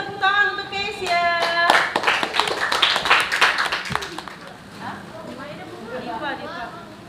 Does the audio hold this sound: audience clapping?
yes